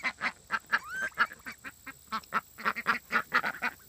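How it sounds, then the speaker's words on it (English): Ducks on pasture in a farm paddock quacking repeatedly, a rapid series of nasal honking calls from several birds close by, irregular and overlapping, with no talk. "In our next paddock, we have our ducks."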